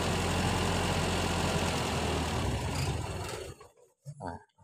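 A CNG car engine idling loudly and steadily, then dying away within a second as the gas is shut off, leaving quiet with a voice speaking afterward.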